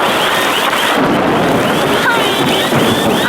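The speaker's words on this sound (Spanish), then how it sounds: "Una tormenta de truenos y relámpagos aquí en Cracovia." A thunderstorm over Krakow at night fills the air with a dense, continuous roar of rain and rumbling thunder, loud and close, with no clear gaps.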